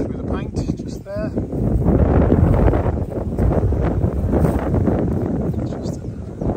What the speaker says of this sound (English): It's just so windy and dusty today